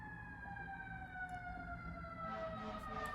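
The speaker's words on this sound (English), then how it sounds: "And now you can probably hear the sirens." Faint, distant sirens wailing in steady drawn-out tones over a low city rumble, a bit of traffic noise swelling toward the end.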